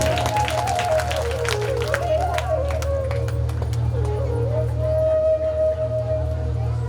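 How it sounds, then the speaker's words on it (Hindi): Scattered applause from the audience at a Shrimad Bhagwat katha, sparse claps rising over a steady low hum while a voice carries on in the hall. "एक बार ताली बजा दीजिए अपनी।"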